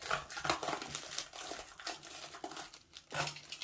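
Plastic wrap on a Galaxy Book3 Ultra laptop box is slit at the corner with a knife and peeled away, giving close, busy crinkling and rustling in uneven bursts with no talk.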